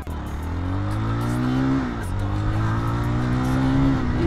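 Jawa 42 FJ 300 cc motorcycle on a highway, its exhaust rising in pitch as it pulls through the gears, with a brief dip at a gear change before climbing again.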